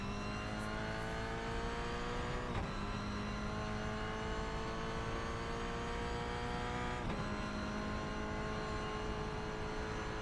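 A Toyota GR86 race car drives on the Oschersleben circuit, its engine droning loud and steady from inside the car, the pitch climbing through the revs and dropping sharply at two gear changes.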